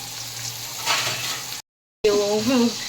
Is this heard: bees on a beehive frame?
no